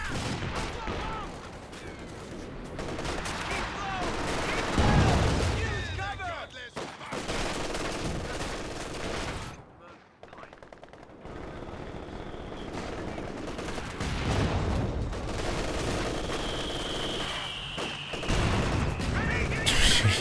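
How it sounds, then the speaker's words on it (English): Double mortar pits pounding away in the video game Company of Heroes 2, with repeated booming impacts and rattling gunfire amid battle noise, and a commentator talking over it. "those double mortar pits are just hammering away"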